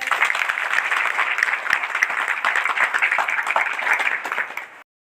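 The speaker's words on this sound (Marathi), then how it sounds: "सगळ्यांनी टाळ्या" A crowd at a village nutrition-campaign event applauds girls receiving prizes, close, busy clapping that holds steady and then cuts off sharply at the end.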